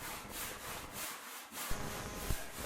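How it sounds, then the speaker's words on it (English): A hand saw cuts through a thick wooden board on a workbench with repeated rhythmic rasping strokes, close and steady, with no talking. "As I'm sawing and I approach the bench"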